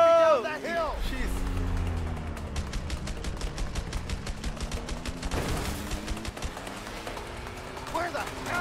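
Gunfire rattles in the A Way Out video game during a frantic chase, rapid automatic bursts layered with engine drone and shouted voices, loud and busy throughout.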